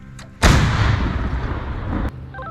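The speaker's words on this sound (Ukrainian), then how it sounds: "Армата! Постріл!" An American M119 howitzer fires one loud shot in the forests near Kreminna, a sudden heavy boom followed by a rumbling roll that fades for over a second before cutting off.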